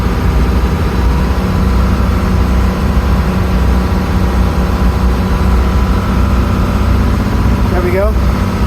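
A 1928 classic yacht's engine runs steadily at 900 RPM during a test run without its turbo, a loud, constant low drone filling the whole stretch, with a brief squeaky whine near the end.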